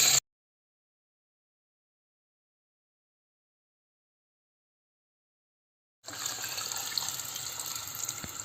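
Water pours steadily into a pot for cooking rice and lentils, a moderate rushing flow that begins after a long stretch of silence and continues to the end.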